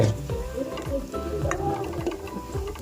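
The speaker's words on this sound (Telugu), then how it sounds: "ఫ్రెండ్స్ ఉల్లిపాయలు మిరపకాయలు అయితే ఆల్మోస్ట్ దగ్గరకు వచ్చింది అనమాట వేగిపోయింది" Onions and chillies fry in a pan while they are stirred, giving a steady close sizzle with scraping strokes throughout. This is part of cooking a tribal-style dried crab curry, with a faint voice in the background.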